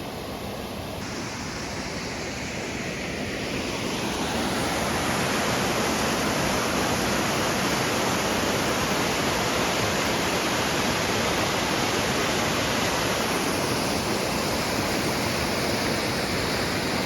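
A waterfall in Newfoundland gives a constant, loud roar of rushing water that swells in the first few seconds and then holds steady and unbroken, with no voices.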